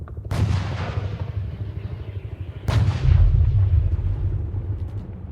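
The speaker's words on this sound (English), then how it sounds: "That was the sound of British artillery finding its mark." Two heavy artillery blasts a few seconds apart, each a sharp crack followed by a long, deep rumbling roll that fades slowly.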